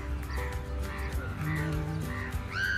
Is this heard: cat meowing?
no